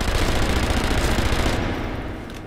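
Dense, continuous rapid gunfire from the video game Sniper Elite V2, loud and close, a steady automatic barrage that thins and fades slightly toward the end.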